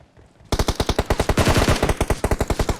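Rapid automatic gunfire in PUBG Mobile begins abruptly after a quiet moment, then cracks out roughly twenty loud, close shots in a fast, even rhythm.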